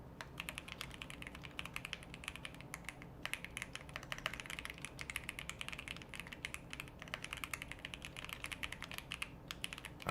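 Rapid, continuous clatter of a computer keyboard during a coding session, soft and fairly distant, with irregular keystrokes running the whole time and no talking.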